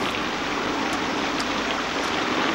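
Heavy rain pours down in a steady, even hiss with no pauses or voices, and a few faint brighter splashes rise out of it now and then.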